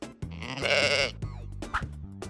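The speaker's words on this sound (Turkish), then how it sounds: "Koyun." A sheep bleats once in a short, wavering cry, with light rhythmic background thumps continuing afterward.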